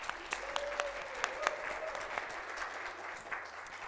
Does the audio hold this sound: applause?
yes